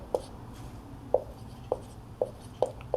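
Pen or chalk strokes during a class 12 maths lesson, six short sharp taps and scratches spaced irregularly, close and fairly loud against a quiet room with no talk.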